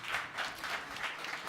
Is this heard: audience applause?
yes